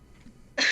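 A single sharp cough comes in abruptly near the end, loud and close after quiet background.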